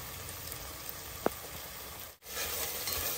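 Chili powder stirred into sizzling masala for a multigrain khichdi gives a steady, close frying hiss with a single light tap midway and a brief dip in the noise.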